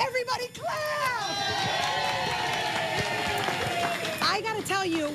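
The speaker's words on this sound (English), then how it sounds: "Everybody clap." Studio audience at a children's music TV show clapping and cheering as a performer is welcomed, lively crowd noise mixed with music and raised voices, loud and close.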